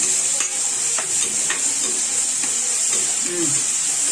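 Sliced onions sizzle steadily in hot oil in a pan while being stirred, browning for a vada curry; a continuous close frying hiss runs throughout, with soft scraping strokes at regular intervals.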